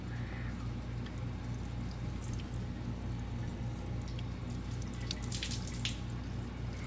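Coolant drains steadily from the radiator of an old vehicle found sitting in a shed, a continuous close splashing trickle with low rumble underneath and brief brighter spatters near the end, with no voices.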